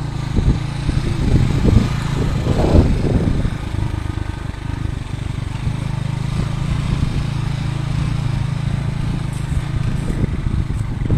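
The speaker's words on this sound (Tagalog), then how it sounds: "kahit nandito na kami sa kabundukan, tingnan yung motor hanggang dito, kaya ng takbuhin ng motor" A motorcycle engine runs steadily in a mountain setting, a low continuous drone holding close and fairly loud for the whole stretch, with a brief rougher burst early on and no talking.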